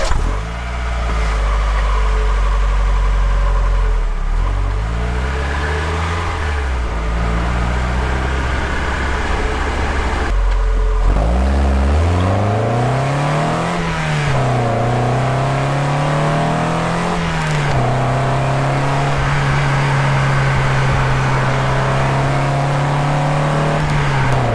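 A car engine and exhaust, captured from the engine bay and the tailpipe, idle with a deep rumble and then rev up and down repeatedly, loud and close, settling into a steady higher drone near the end.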